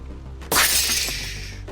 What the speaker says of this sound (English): You hear the canister of sap shatter, and Dwight is engulfed in flame.